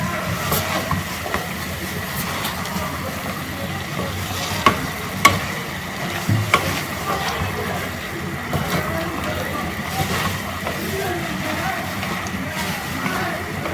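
Thinly sliced fresh button mushrooms are stirred in a pot for a soup, with a continuous sizzling hiss and scraping, a couple of brief clinks midway, and no talk.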